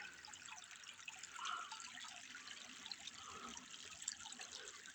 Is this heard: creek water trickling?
yes